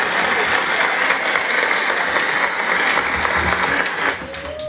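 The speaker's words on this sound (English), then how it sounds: "So please, just clap for yourself." Wedding guests clapping together in a continuous, loud wash of applause close by, holding steady before thinning slightly near the end as a voice begins to come through.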